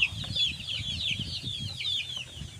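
Tornado hatch Mt. Banahaw line chickens make soft repeated clucks and low murmuring calls nearby, with a thin high chirping running throughout and no talking.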